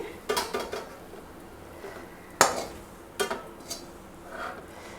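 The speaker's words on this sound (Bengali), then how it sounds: "একটা পাত্রে ঢেলে দিচ্ছি" Cooked filling tipped from a pan into a container, heard as a few sharp metallic clinks and knocks of utensil against pot, spaced irregularly in a quiet kitchen.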